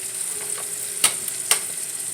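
A small sprig of thyme sizzles in hot oil while salted fish is prepared, a steady close crackling hiss with two brief sharp pops.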